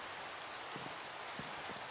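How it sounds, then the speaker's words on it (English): Steady rain falls across a medieval village game world, a dense even hiss with a few soft low thumps, moderately loud and without any voices. "And it's raining like hell though."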